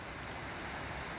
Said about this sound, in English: I thought about the drought and I prayed briefly, and now look, pouring rain.